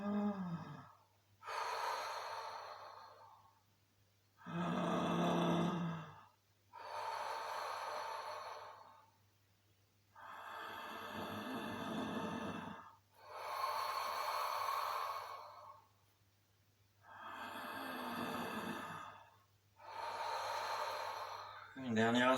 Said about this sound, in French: Et avec la respiration la plus profonde possible